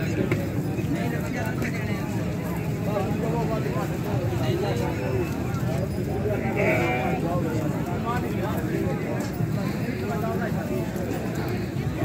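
Goats and sheep bleat repeatedly in a busy Eid livestock market in Faisalabad, with hoof clatter and a constant crowd din beneath them.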